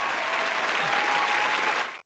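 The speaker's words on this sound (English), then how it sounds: "Round of applause for me." Applause from a live audience at the close of a chat with Face and LMS, a dense, even wash of clapping lasting about two seconds before cutting off abruptly.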